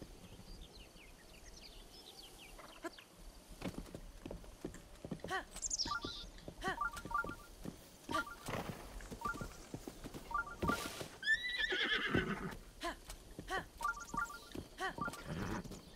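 A horse in The Legend of Zelda: Breath of the Wild trots with light clip-clop hoof patter and a brief whinny, mixed with game sound effects and chimes, moderately loud with no speech.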